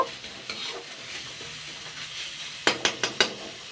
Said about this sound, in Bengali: আমি চাল কুমড়ো পাতা বাটাটা দিয়ে দিচ্ছি এটা আমি জাস্ট দু মিনিট মতো নাড়াচাড়া করব